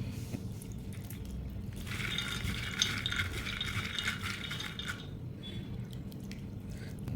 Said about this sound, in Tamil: கொஞ்சம் நல்ல தண்ணி தெளித்து கொஞ்சம் நேரம் இது ஊறட்டும்